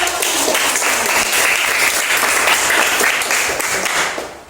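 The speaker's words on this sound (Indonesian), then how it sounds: "kasih aplaus dulu" An audience in a school classroom setting breaks into loud, dense applause that carries on steadily for several seconds before tapering off at the end.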